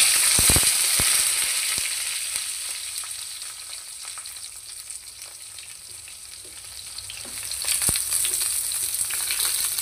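Eggplant pieces dropped into a hot pan with a little asafoetida, giving a loud close frying hiss with a few clatters as they land, easing off slightly before swelling again, with no voices.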